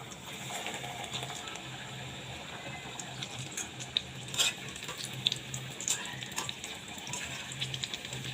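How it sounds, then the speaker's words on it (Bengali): Kebabs fry in a pan with a soft, steady sizzle and a few brief crackles and clinks, faint and continuous with no talking. "এখন আমি আবার সবগুলোকে এভাবে ভেজে নেব।"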